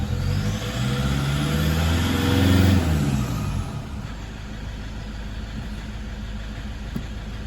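A Toyota 1KD-FTV D4D diesel engine with faulty injectors runs with a rough, loud idle and a rising rev, then settles into a steadier, quieter clattering hum.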